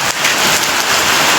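Heavy rain pours down in a dense, loud, continuous roar of drops striking surfaces nearby.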